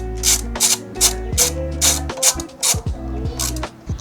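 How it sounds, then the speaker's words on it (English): Ratchet wrench clicking in rapid bursts while securing a brake pad bolt on a Triumph Trident 660, close and loud, with about nine repeated ratcheting strokes in a steady rhythm and no talking. "So I'm actually going to use my ratchet here."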